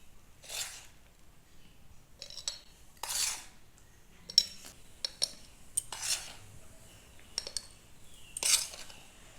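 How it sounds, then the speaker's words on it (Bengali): Homemade gram flour is spooned from a bowl into a glass jar, giving a series of short, close scraping and clinking strikes of spoon against jar, spaced irregularly and without voices. "বেসনটা আমি এখন এই শিশিতে পুরে নিচ্ছি।"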